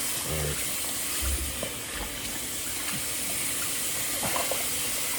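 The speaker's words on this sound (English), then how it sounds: "you're gonna wash it off simply with cold water" Running tap water hisses steadily throughout, with faint splashing as hands rinse, close by and fairly loud.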